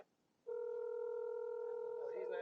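Phone call placed on speaker from a car delivery outing, a steady ringback tone starting after a brief quiet moment and holding continuously, with faint background sounds near the end.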